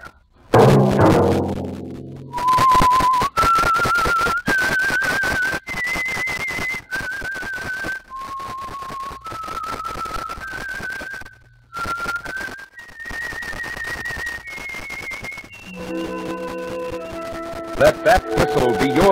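A clear whistled melody of sustained, evenly spaced notes rising and falling, following a brief burst of louder sound at the start.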